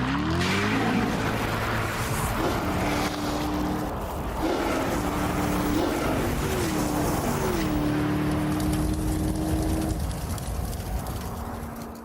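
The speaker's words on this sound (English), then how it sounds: "Let's find out with a quarter-mile drag race between the car and a trail of" A Corvette Z06 runs a quarter-mile drag race, its engine droning steadily and climbing in pitch through several gear changes, loud and continuous from start to finish.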